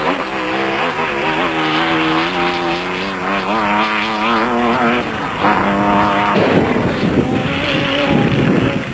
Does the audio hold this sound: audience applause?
no